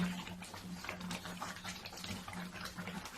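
Sugar syrup for kalakand bubbles vigorously in a pan while being stirred, a continuous, dense hissing and popping texture at moderate loudness with no voices.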